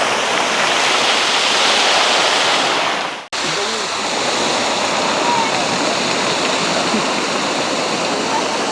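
A park fountain in Shevchenko Park, Odesa, runs with a steady, close, full hiss of falling water, briefly cut off once before carrying on unchanged.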